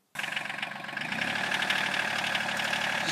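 Farm tractor engine running steadily while stuck and straining to pull free, a continuous mid-low rumble that swells slightly after the first second and holds loud and close with no talking.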